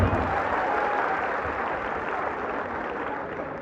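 An audience at a kavi sammelan poetry gathering for Chaudhary Charan Singh's birth anniversary claps in sustained, even applause that fades slightly toward the end.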